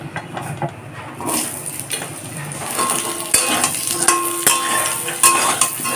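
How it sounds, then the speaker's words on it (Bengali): Potatoes fry in mustard oil left over from frying fish, giving a steady sizzle with scattered clinks and scrapes of a utensil against the pan, close and continuous without talk. "আলুগুলোকে লাল করে ভেজে নেব"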